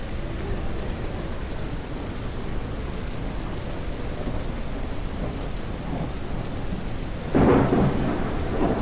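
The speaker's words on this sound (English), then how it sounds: "Thunder and lightning." Thunderstorm with steady rain in a video game, a continuous wash of rainfall with low rumbling throughout, then a louder crack of thunder near the end.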